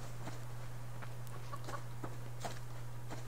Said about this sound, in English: That was a chicken.